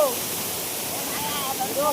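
Benarai waterfall on Karinga Hill roars as a steady, broadband rush of falling water, close and continuous, with faint tonal voices or calls drifting over it near the end.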